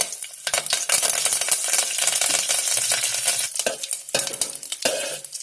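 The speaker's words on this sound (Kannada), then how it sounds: "ತುಪ್ಪದಲ್ಲಿ ಹಸಿ ಕರ್ಬೇವಿನ ಸೊಪ್ಪು ಫ್ರೈ ಆದರೆ" Fresh curry leaves fry in hot ghee with a loud, steady crackling sizzle, broken by the scrape and clatter of a spoon stirring through the pan.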